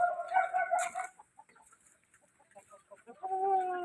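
Farm chickens cluck close by in loud, rhythmic bursts at the start and end, with quieter scattered clucks and rustling in between.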